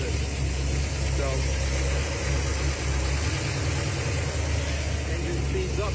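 A Ford Galaxie carbureted engine runs steadily after a pump shot with no change in throttle position, a close, continuous idle rumble with a mechanical drone throughout.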